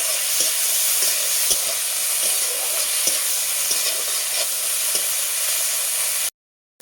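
Prawns sizzle in hot oil with a steady, loud crackling hiss, frying lightly for pakoras, that continues evenly, then cuts off abruptly near the end.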